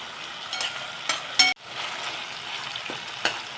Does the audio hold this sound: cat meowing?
no